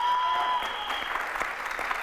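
A studio audience on a Greek daytime talk show breaks into applause, a dense wash of clapping that sets in after a brief electronic tone and carries on steadily.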